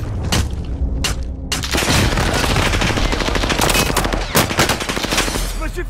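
Rapid automatic gunfire with a KG M40 rifle in the Warzone battle royale on Fortune's Keep, loud cracking bursts and booms packed tightly together, with brief gaps and a voice speaking at moments.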